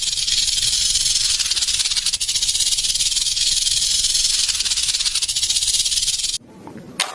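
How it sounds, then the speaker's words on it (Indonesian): A snake gives one long, loud, continuous hiss lasting about six seconds, then cuts off abruptly into quiet background. "seekor ular"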